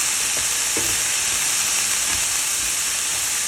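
Long beans and carrots fry in a hot pan, a steady close sizzle and hiss of steam running throughout with a few faint clinks and stirring knocks underneath.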